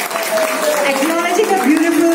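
Audience applause at a song launch event, continuous and fairly loud, with a voice talking and a tonal sound running over the clapping.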